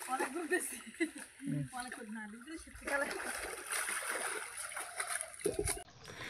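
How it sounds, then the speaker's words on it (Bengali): Someone bathing and diving in a village pond on a cold winter day, water splashing and sloshing in irregular surges at a middle distance, with voices talking over it. "দেখো বাবা, কত ডুব দিচ্ছে এই শীতে"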